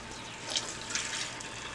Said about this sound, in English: I'm going to pour in my rum